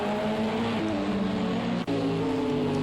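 An LMP prototype race car engine from the Project CARS 2 racing game at Imola drones loudly and continuously, holding a steady high pitch with slight shifts through gear changes.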